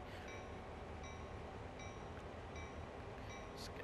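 A locomotive in Runaway Train 2 gives off a low, steady rumble with faint, evenly spaced clicks, heard quietly and alone.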